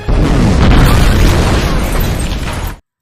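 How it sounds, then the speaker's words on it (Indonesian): Robots blowing themselves up in the 2015 film Tomorrowland set off a loud, sustained blast: a dense, rumbling explosion roars for nearly three seconds, then cuts off abruptly. "mereka akan meledakkan diri"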